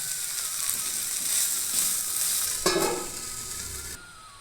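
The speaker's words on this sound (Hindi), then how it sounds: "अब इसमें हम मटर डाल रहे हैं।" Peas hitting a hot pan of besan for fenugreek kadhi, a steady loud sizzle with a sharper burst of crackling midway before it settles, close up with no voices.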